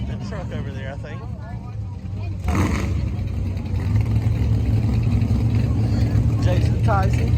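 A nitrous-equipped truck races down a drag strip, its engine building into a loud, sustained roar that swells and holds, with people talking over the noise early on.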